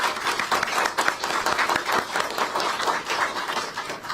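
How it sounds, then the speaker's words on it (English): A crowd at the Arkansas Black Hall of Fame induction event gives the board a round of applause, dense, continuous clapping at even strength for the whole stretch. "And let's give them a round of applause."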